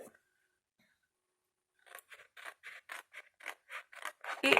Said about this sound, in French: vous coupez sur un des plis jusqu'au croisement des plis suivants